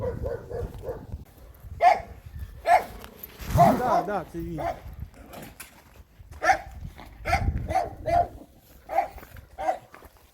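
Repeated sharp dog barks ring out at a moderate distance in irregular bursts, while people talk in between and over them.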